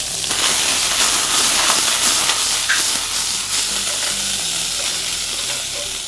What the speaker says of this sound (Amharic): ትንሽ መሽሩም አብሮ እንዲጠበስ